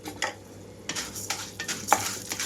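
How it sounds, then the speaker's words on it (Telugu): Urad dal fries in hot oil over a low flame, giving a brief sizzle broken by quick scraping stirs of a spoon against the pan. "ఇప్పుడు ఇదే ఆయిల్లోకి మినపగుళ్ళు వేసి వేయించుకుంటున్నాను"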